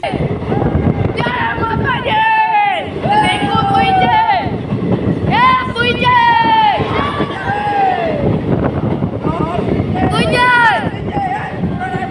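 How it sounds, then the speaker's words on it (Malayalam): A train passes close by, sounding its horn in loud, repeated blasts over a rumbling rush, while voices are heard alongside. "നിർത്താതെ ഹോണടിച്ച് ട്രെയിൻ കടന്നുപോയി"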